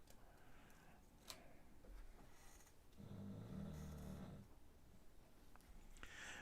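Low, droning snores from a pet bulldog indoors, one long rasping breath swelling in the middle, faint and steady under a quiet room hum, with no talking.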